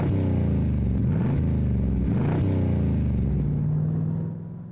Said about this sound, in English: the sound coming out of the ANSA dual pipes is enough to make your hair stand on end